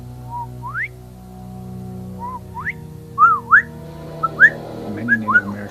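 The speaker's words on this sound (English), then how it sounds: "his bird calling whistle attracts the skunk" A bird calling whistle blown in a series of short rising chirps, sparse at first and then quicker, loud and close over a low background hum.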